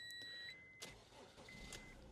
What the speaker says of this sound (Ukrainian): Завівся з пів оберту наш автомобіль.